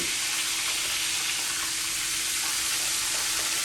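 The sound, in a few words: cracker-crusted chicken fried steak frying in oil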